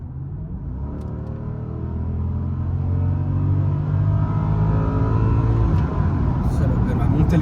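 A new car in an elegant sport mode accelerates hard with the throttle pressed, its engine note swelling into a loud, close, rising rumble that builds steadily for several seconds.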